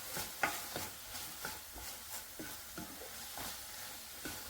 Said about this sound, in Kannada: ಇದ್ರ ಜೊತೆ ಚೆನ್ನಾಗಿ ಹುರ್ಕೊಳ್ಳೋಣ